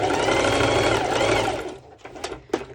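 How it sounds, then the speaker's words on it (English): A sewing machine runs a straight stitch over a layered elastic band, whirring loudly and steadily for about a second and a half, then slowing to a stop with a few soft clicks and thumps. "And then doing a straight stitch"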